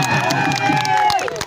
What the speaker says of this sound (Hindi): जैसे एक बार तालियां बजाए बालाघाट वालों।